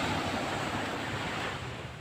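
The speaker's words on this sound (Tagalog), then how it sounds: "Jackiston, pangharang ng mga malaking alon." Big sea waves roll against a breakwater of jackstone-shaped concrete blocks at Borongan, a continuous loud roar of surf mixed with wind buffeting the microphone, with no talk.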